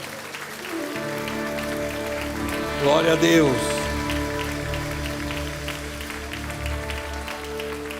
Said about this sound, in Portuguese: Forte esse aplauso para o Senhor